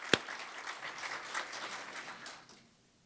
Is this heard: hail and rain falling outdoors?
no